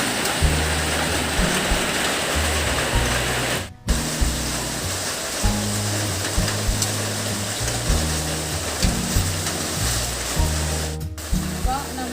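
Boiled tapioca slices fry in boiling coconut oil, giving a loud, continuous hissing crackle with steady sizzling throughout and a brief dip partway, while a person talks over it.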